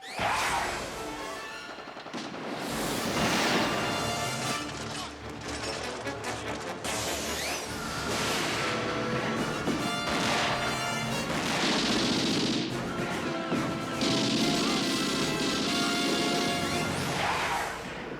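Gunfire in a TV battle scene: bursts of rapid shots and crashing impacts ring out repeatedly over several seconds, loud and dense, with no talk.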